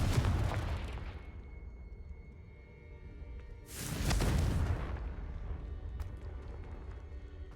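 Fiery Confringo spell blast in the video game Hogwarts Legacy: a loud burst erupts around the four-second mark, rumbling and slowly decaying, with game combat noise and an earlier softer burst at the start.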